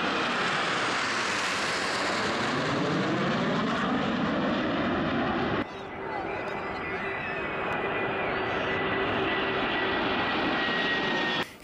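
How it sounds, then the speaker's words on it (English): Frecce Tricolori jets sweep past low in formation, a loud, sustained roar that swells and shifts in pitch as they pass, with a brief dip midway before the engine noise carries on. "The Freche Tricolore performing a low pass in formation."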